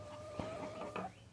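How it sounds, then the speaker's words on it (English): A little gray broody hen near a nesting box gives a few short, close, soft clucks in quick succession. "This is my broody one down here, this little gray hen."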